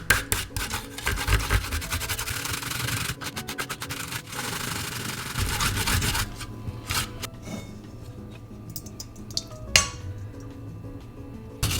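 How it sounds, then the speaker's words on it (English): Fresh peeled ginger rubbed against a grater for Japanese gyoza filling, giving a run of dense rasping scrapes with small clinks of the grater, loud and busy at first, then thinning into sparser scratches and taps. "Grate it."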